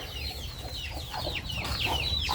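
Chickens cluck and chirp in a coop, with a series of short, bright calls rising over a steady low background hum. The calls grow a little busier and louder toward the end.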